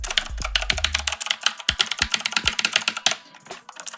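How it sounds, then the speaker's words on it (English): Rapid, continuous clacking of keys on an RGB mechanical keyboard with a brushed aluminum body, typed in quick bursts close to the microphone, with no talking. "And we're gonna do a typing test and everything in it."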